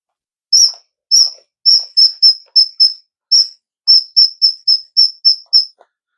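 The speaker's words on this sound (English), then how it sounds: "this guy is an old Ronald McDonald, intact with the whistle" An old Ronald McDonald toy whistle gives a string of about fifteen short, shrill, bright toots in quick irregular bursts, close and loud with no talk.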